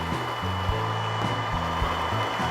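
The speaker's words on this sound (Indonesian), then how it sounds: "Ya, kita matikan mixer." An electric mixer runs steadily while mixing bakpao brownie dough, a loud continuous motor whir with shifting pitch as the load changes, alone with no talking.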